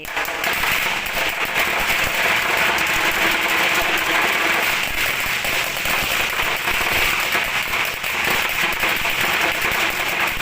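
Firecrackers set off as a vow offering at a Thai shrine to Krom Luang Chumphon, a dense nonstop crackle of rapid bangs filling the whole stretch, loud and close, with a little crowd noise mixed in.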